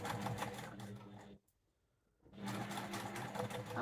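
A sewing machine stitches a fabric tissue basket with a half-inch seam allowance, running loud and steady, stopping for about a second, then starting again for a back stitch.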